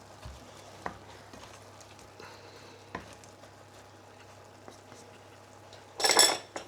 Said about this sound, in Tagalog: last mix ko muna to